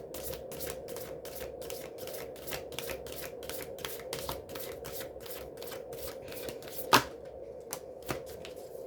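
Chakra oracle cards shuffled by hand during a psychic channeling reading, a close, quiet run of rapid, evenly spaced riffling clicks, with one sharper snap near the end.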